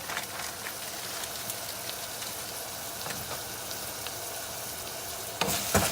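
Spices stirred in a sizzling pot while cooking bishmele, including allspice, a soft steady frying crackle with light stirring scrapes, fairly faint, ending in a louder burst of sizzle.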